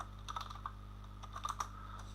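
Keys on a computer keyboard tapped in a short, uneven burst of soft clicks, a few spaced presses then a quicker cluster near the end, faint and close over a steady low hum, no voices.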